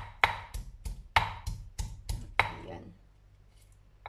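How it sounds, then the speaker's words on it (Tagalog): Two cloves of garlic are pounded on a cloth laid underneath, giving about eight muffled, thudding knocks in an uneven rhythm, close and moderately loud, then fading to quiet. "duduktukin natin yung ating dalawang piraso ng bawang"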